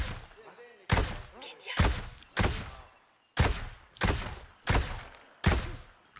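G28 rifle fire in a shooter game, about eight loud single shots at a steady, evenly spaced rhythm, each with a sharp crack and a short booming tail, with no talk in between.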